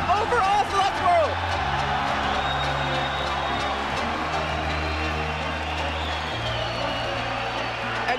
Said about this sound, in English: you can hear the crowd's excitement from that game.